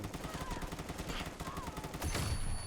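M4A1 carbine fire in Fallout 4, steady rapid automatic bursts in a quick rhythmic stream, with a louder, heavier blast near the end.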